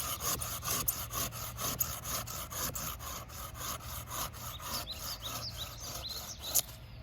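A hand saw rasps back and forth through hazel wood, cutting circles for toy wheels, a fast, steady stroke rhythm with faint birdsong outdoors behind it.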